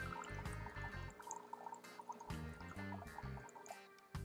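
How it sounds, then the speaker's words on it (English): Hot water pours steadily from a Breville Barista Touch Impress espresso machine into a cup, a continuous liquid filling sound with drips, mixed with the machine's low mechanical hum and some pulsing beneath. "You can see it's filling up that cup with hot water."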